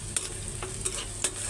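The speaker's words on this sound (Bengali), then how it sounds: "আর এখানে পেঁয়াজ বেরেস্তা করতেছি বুট বাগার দেওয়ার জন্য" Onions frying in oil until crisp and browned for beresta, a steady sizzle broken by three sharp scraping stirs of a spoon in the pan, close and fairly quiet.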